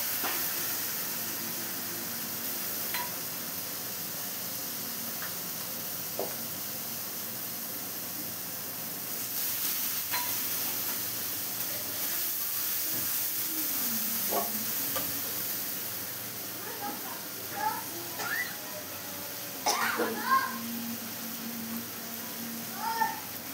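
Black cumin seeds with chilli, cumin and turmeric powders tempering in hot oil, a steady soft sizzle and hiss with occasional stirring clinks, close and continuous.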